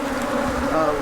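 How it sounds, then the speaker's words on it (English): Aggressive honey bees swarm around an opened hive during an inspection, a dense, continuous buzzing drone, close and steady, with no voices. "These are what I would call aggressive bees"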